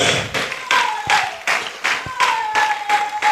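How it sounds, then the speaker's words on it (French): Rhythmic clapping from a church congregation in a steady beat, about eight claps, loud and close, with faint crowd sound beneath. "Applaudis très bien le Seigneur des Seigneurs."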